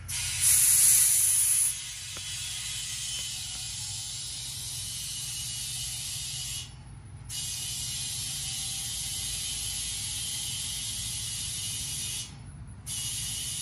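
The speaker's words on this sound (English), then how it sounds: "In my case, I have an air compressor. Stick it back on there." Air compressor hose hissing steadily as it inflates a car tire after a flat repair, a loud continuous rush broken by two brief pauses, with no talking.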